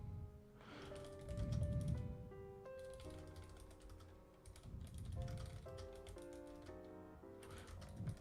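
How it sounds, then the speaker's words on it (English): Python code being typed on a computer keyboard: a run of steady, fairly quiet key clicks alongside tonal background music, with no talking. "I'm going to just explain stuff while I'm typing this down"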